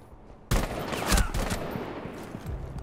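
A shotgun fires in an online multiplayer video game, a sudden loud blast followed by a rumbling, crackling rattle of further gunfire and game noise that trails off.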